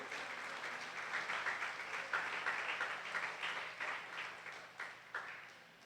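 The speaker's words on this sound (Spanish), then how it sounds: "Denle ese aplauso al Señor Jesucristo, gloria a Dios." A church congregation applauds steadily for several seconds, a dense, sustained wash of clapping with no voices over it.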